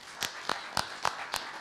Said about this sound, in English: Let's have a big round of applause for our panel up here today.